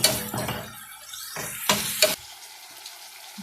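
Minced meat frying with onion, carrot and pepper, stirred in a pan: a steady sizzle broken by a few scraping stirs, louder bursts near the start and around two seconds, then a quieter simmering hiss.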